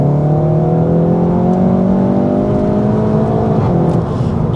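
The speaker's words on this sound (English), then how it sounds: "Flick the gears over to manual and accelerate." A Cupra 300 with 300 horsepower through the front wheels pulls hard in manual mode, its engine note climbing steadily in pitch, loud and close from inside the car, with no voices.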